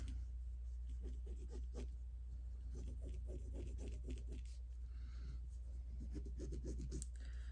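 A line is drawn on fabric before sewing. Quiet close rubbing, scratching strokes come in short rhythmic bursts over a steady low hum, with no talk.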